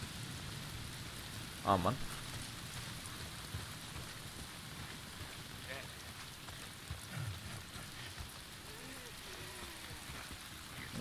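Steady rain hisses over a muddy outdoor scene in the video game Days Gone, continuous and even throughout, with a brief burst of voice near the start and faint game sounds underneath.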